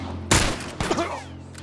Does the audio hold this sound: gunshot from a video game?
yes